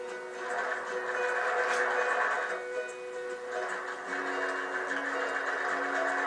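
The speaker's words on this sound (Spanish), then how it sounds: "bajamos el piecito de la máquina y hacemos un zigzag grandote abrazando el hilo pero sin pisarlo" A sewing machine stitches a large zigzag over a laid thread on a stepped border, a steady close mechanical whirring with rhythmic needle ticking that eases briefly and resumes, heard alone without talk.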